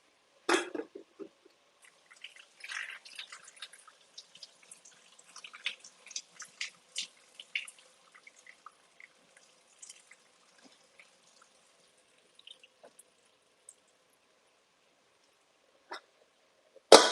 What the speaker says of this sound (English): I'm going to drain the water of my lentils